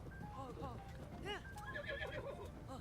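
Horse in the video game Zelda Tears of the Kingdom whinnying in a few quick, wavering calls, with hoof clip-clop and game sounds underneath, at moderate level.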